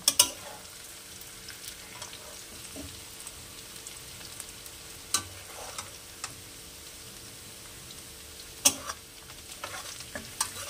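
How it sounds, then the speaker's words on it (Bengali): Onions frying over a gas flame for chicken korma, a steady soft sizzle in the pan with scattered clicks and scrapes of stirring, no talk over it. "আমি গ্যাসের ফ্লেমটা কমিয়ে কিছুটা পেঁয়াজ ভাজা তুলে রাখবো"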